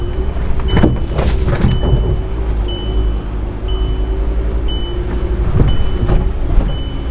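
A 4WD rolls slowly down a rough bank into a creek bed, its engine a steady low drone close by, with occasional bumps and thuds from the terrain and a faint repeating electronic tone.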